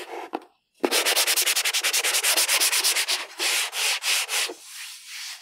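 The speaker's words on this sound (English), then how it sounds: "a light sanding will knock it off" Quick, rhythmic strokes of sandpaper lightly sand a painted wood surface, a rapid run of raspy passes followed by a few slower, longer strokes close up.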